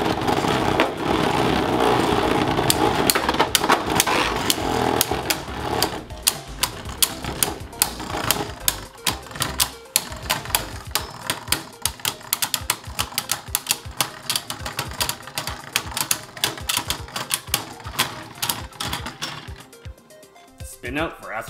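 Beyblade spinning tops are launched into a stadium and battle, giving rapid clattering clicks and dense metallic collisions that thin into scattered sharp hits as they slow, with voices in the background.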